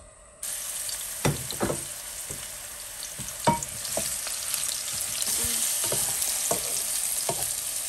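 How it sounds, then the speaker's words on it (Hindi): Eggplant frying in oil in a wok, a sudden loud sizzle that holds steady, broken by repeated close clatters of stirring and turning. "अब हमने कढ़ाई में ऑयल डाला है और इस ऑयल में हम बैंगन को फ्राई कर रहे हैं।"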